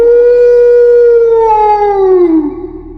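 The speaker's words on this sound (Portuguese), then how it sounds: "Em certo momento, comecei a ouvir um uivo." A werewolf howl sound effect, loud and close, holds a long, sustained tonal wail that rises slightly and then slides downward as it fades, heard alone without talk.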